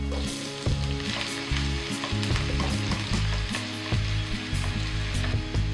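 Onion sizzling steadily in a hot pan for vegetable fried rice, a loud continuous crackle with occasional stirring knocks and scrapes, no talking.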